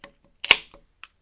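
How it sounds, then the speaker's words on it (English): A sharp hiss and pop as a can of chocolate stout beer is cracked open, with a couple of small clicks before and after. "Ooh, nice crack out of that beer."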